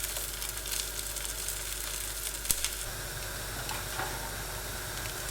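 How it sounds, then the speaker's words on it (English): Veggie burgers sizzle in hot oil in a pan, a steady broadband hiss and crackle held close throughout, with one sharp pop partway through and no talking. "Just listen to that sizzle."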